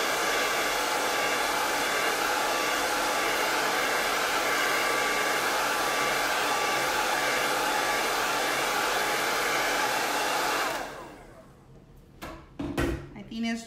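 A hair dryer blows steadily and loud on a kids' craft design made with chips and mini tags for about eleven seconds, then switches off, leaving a few soft handling knocks.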